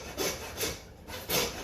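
Handsaw cutting through lamb bone during home butchering, three rhythmic rasping strokes close up, fairly quiet with no talk.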